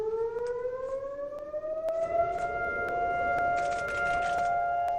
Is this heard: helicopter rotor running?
no